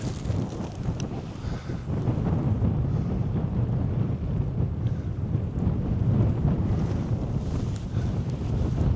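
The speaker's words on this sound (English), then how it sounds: "It's a lot of wind right now." Strong wind gusts across an exposed hill, a constant loud low roar and buffeting rumble against the microphone with no pause and no voices.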